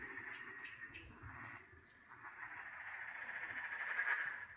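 Frogs croak at night at a campsite in Australian bush, a dense continuous chorus of trilling calls, soft and distant, rising slightly toward the end with no talk.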